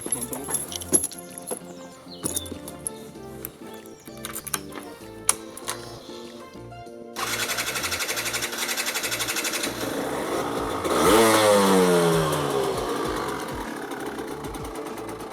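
A small motorcycle engine sputters and putters unevenly, then catches and runs with a steady rattling drone that revs louder toward the end.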